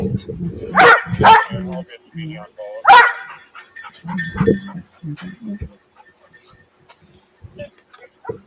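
A K9 dog at a search site barks in a few sharp, close bursts, mixed with nearby talking and quieter pauses between.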